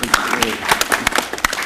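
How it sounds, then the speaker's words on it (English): An audience at a FedCURE event, addressed by the Federal Bureau of Prisons director, claps in a brief, close burst of distinct hand claps, uneven in rhythm and fairly loud, with a murmur of voices underneath. "you all deserve a round of applause."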